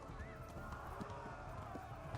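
Horse hooves clip-clop at a steady trotting rhythm while riding in the video game Kingdom Come Deliverance, with a soft music bed and low background ambience underneath.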